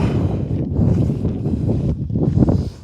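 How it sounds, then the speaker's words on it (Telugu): Strong wind buffeting the microphone at a solo night campsite, a loud, continuous low roar with gusty surges and brief lulls. "ఇంత గాలి వస్తుంది"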